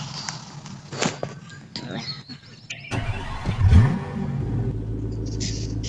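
A car in the Roblox video game starts up and revs, rising into a rumbling engine drone with a brief pitch sweep, heard alongside game sounds and under talk.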